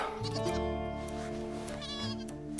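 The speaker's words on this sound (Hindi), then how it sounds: "बकरी का बच्चा मिमियाने लगा है" A baby goat bleats repeatedly, its wavering cries loud and close over a background of dramatic music with no speech.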